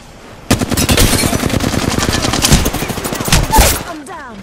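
Sustained automatic gunfire in the battle royale game Apex Legends, a rapid, loud, close burst of shots lasting about three seconds and then cutting off.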